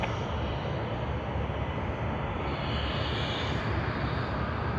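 A Thai Airways Airbus A350 being taken to the gate at Sydney Airport gives a steady, continuous broadband roar that holds level throughout with no voices over it.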